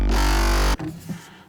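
A screaming, distorted bass synth made in Native Instruments Kore, stacked with a sub bass layer, blasting loud and dense for under a second before cutting off into a quieter tail.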